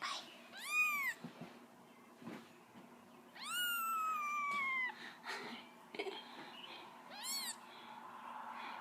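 A newborn kitten cries in a series of high, rising-and-falling mews, loud and close, with quieter pauses and faint shuffling between the cries.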